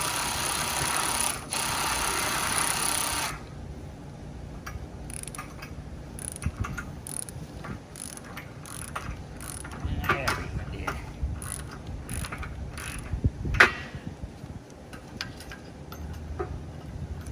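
A hand ratchet tightens bolts on a motorcycle ground stand, giving close, intermittent bursts of sharp metallic clicks over a low background hum, with scattered single ticks between the bursts.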